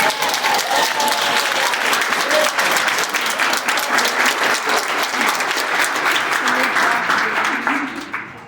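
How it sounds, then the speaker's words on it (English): A crowd applauds steadily after a talk on selling your creative work, a dense, sustained wash of clapping that holds at full strength for several seconds before tapering off at the end. "A round of applause for Dustin."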